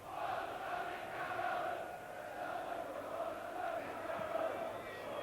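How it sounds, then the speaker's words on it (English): Sustained crowd applause and cheering for Tony Carroll at a 2001 Castleford versus Leeds rugby league cup match, a steady dense roar of a large stadium crowd with no talk over it. "Rapturous applause then for Tony Carroll"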